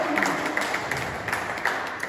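Audience applause at a family reunion gathering for the Green Angels, a steady dense patter of many hands clapping at moderate level throughout, with no voices standing out.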